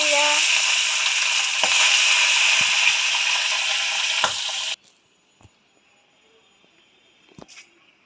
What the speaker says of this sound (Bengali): হলুদ আর নুন দিয়ে মাছ মাখা হয়ে গেছে আর তেলটা গরম করছে আর মাছটা ছেড়ে